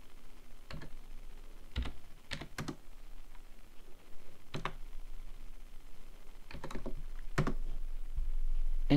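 Formulas are typed on a computer keyboard as scattered, faint key clicks, some singly and some in quick pairs, in an otherwise quiet room.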